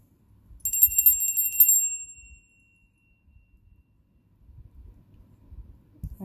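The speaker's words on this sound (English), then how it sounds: "Next, I got this little altar bell." A small metal altar bell decorated with a pentagram rings out with a bright, high tone that shimmers for about a second and a half and then fades, heard close up, followed by a few quiet handling knocks.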